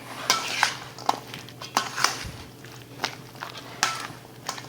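Food being mixed and folded in a bowl for a Deep South salad, heard as a series of soft, spaced clinks and scrapes of a utensil against the bowl, close and moderately quiet.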